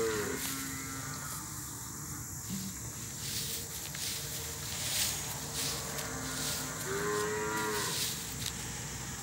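Cows moo repeatedly at moderate distance in cattle auction pens over a steady outdoor background of insects and faint rustling.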